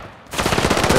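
Rapid automatic gunfire from Call of Duty: Modern Warfare kicks in after a brief quiet moment, a loud, close burst of rattling shots that continues to the end.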